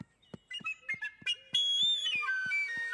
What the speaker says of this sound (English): My whistle!